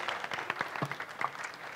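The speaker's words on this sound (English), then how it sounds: "Let's give this young lady a very big round of applause" An audience at a family science show applauds a young volunteer, a brief patter of scattered claps, moderately loud and quickly fading.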